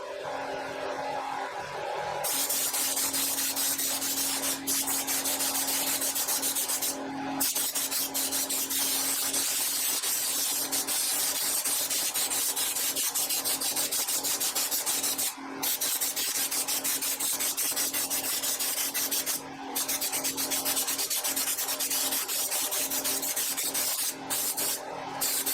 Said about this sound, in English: The normal procedure for spraying the Raptor liner is to use a sweeping motion